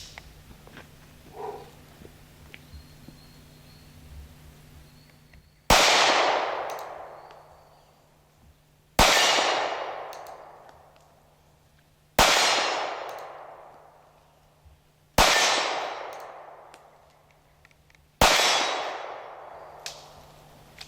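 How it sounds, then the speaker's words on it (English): Six sharp .380 pistol shots from a Smith & Wesson Bodyguard, fired about every three seconds at a large steel target 25 yards away. Each report is loud and booming and rings out into a long decaying tail. Quiet outdoor ambience comes before the first shot. "I'm going to shoot at that bigger piece of steel. It's 25 yards."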